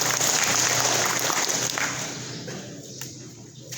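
Crowd applause for Ustaz Hashim at a religious organisation gathering, a broad wash of many hands clapping that starts full and fades out toward the end.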